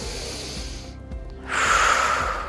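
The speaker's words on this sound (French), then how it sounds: "vous allez prendre des grandes respirations" Deep, slow breaths drawn in and let out during a seated exercise that opens the rib cage, with an airy rush rising after a short pause and holding steady and close.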